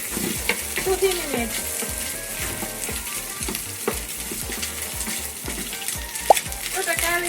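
Mushrooms stir-fry in a hot pan for a ginger stir fry, with constant crackling sizzle and frequent clanks and scrapes from stirring. One sharp knock rings out near the end, and someone speaks briefly over the cooking.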